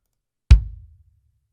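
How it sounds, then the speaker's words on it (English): A single punchy kick drum hit from a sampled drum library, close-miked: one sharp attack with a deep low boom that decays quickly over about half a second, heard alone. "We have 10 new kick drums."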